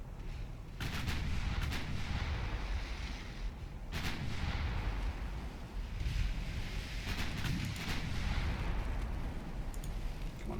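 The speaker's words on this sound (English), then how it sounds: "Another 9-inch gun hits us." Naval gunfire and shell hits in the warship battle game Ultimate Admiral Dreadnoughts, including a 9-inch gun, as a steady series of loud, heavy booms over a continuous roaring rumble of wind and sea, with no talk.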